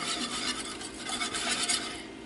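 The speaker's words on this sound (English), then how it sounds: "Just waiting for the last of the butter to melt." Butter melting in a pan on the heat gives a steady, dense fizzing sizzle, close and continuous, with a faint utensil scrape near the end and no voices.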